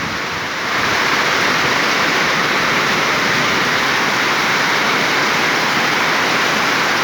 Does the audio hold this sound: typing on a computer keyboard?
no